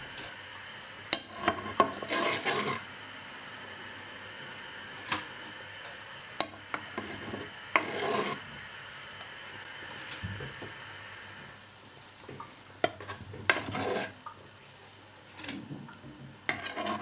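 A ladle or spoon works through a pot of beef and vegetable stew (pot-au-feu), giving scattered light clinks and scrapes against the pot over a quiet simmer, close up with no talking.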